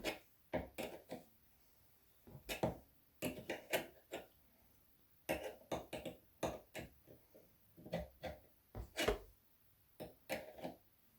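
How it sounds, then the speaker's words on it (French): A screwdriver turns a metal screw eye into a wooden frame, producing short creaking and clicking bursts in irregular groups separated by quiet pauses, close and fairly faint. "Je tourne avec un tournevis pour bien faire pénétrer le piton dans le bois."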